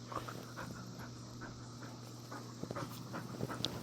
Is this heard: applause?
no